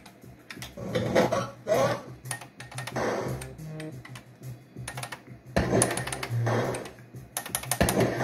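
Keys clatter in quick, uneven bursts of typing on an old AT&T PC 6300 computer keyboard, close up with short pauses between flurries.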